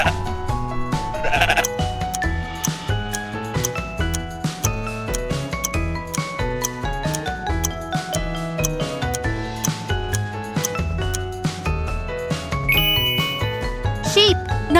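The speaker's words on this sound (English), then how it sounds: "Sheep!" Sheep bleat repeatedly in a quiz for children guessing animals by their sounds, with wavering cries over a bouncy musical backing and a light jingling chime.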